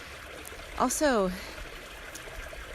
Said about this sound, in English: you can hear the water running in the background